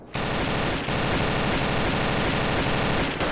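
Rapid automatic gunfire in the online shooter Combat Arms, a loud, continuous burst of tightly spaced shots with a brief break near the start and end.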